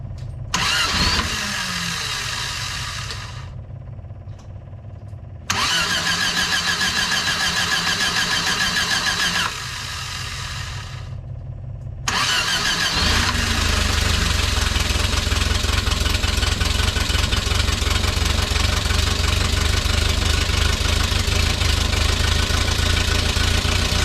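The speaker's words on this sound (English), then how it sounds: "We're gonna let it warm up and we'll see if our wandering idle has gone away." A 1968 Fiat 850 engine with a vacuum leak cranks and catches twice, stalls, then starts a third time and settles into a steady, close, loud idle.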